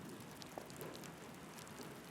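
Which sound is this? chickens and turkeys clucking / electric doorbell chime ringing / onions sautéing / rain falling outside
rain falling outside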